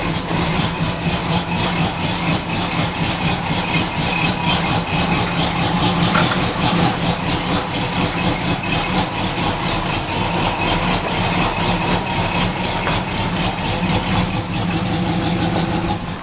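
A 1938 custom Ford hot rod pickup truck sits at idle with a lopey, uneven rumble. The engine runs loud and close and holds steady throughout, with some rattle and no talking.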